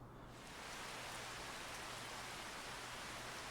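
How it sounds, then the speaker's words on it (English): Steady rain in the Farming Simulator video game, a dense, even hiss of rainfall that swells in within the first half second and then holds constant, with no voices. "It is raining."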